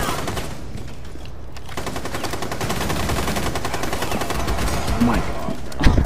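Rapid automatic gunfire in the video game Rainbow Six, dense bursts of shots running nearly continuously and loud, with a sharper crack near the end and players talking faintly underneath.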